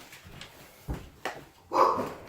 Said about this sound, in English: Stop barking, guys.